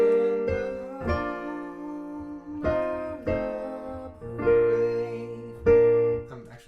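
Piano plays the closing phrase of the Star Spangled Banner, a slow sequence of sustained chords and single notes struck one after another, moderately loud and alone with no voices.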